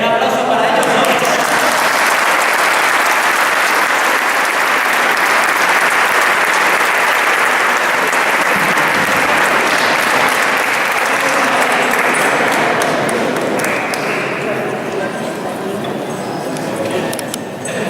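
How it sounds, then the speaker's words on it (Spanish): Loud, sustained audience clapping for a performance at the XIV Renaissance Fair in Fonz, a dense wash of many hands that continues steadily for the whole stretch, tapering only slightly near the end. "Un aplauso para ellos, ¿no?"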